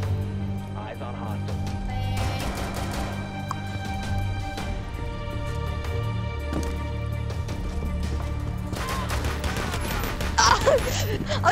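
Gunfire in Rainbow Six Siege during a hide-and-seek custom match: a few scattered shots and clattering game effects over steady background noise, with excited players talking over it.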